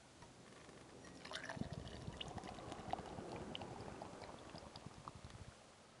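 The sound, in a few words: beer being poured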